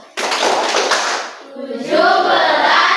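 A burst of hand clapping rings out as steady, dense applause for about a second, fades briefly, and is then followed by voices that sound like singing, at a patriotic Indonesian Independence Day gathering.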